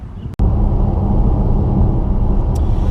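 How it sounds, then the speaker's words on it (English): Cabin noise from a 2018 Dodge Charger on the move: a continuous low road and engine rumble, fairly loud and steady, with a brief click near the start and no speech. "So let's get in and let's go for a quick drive."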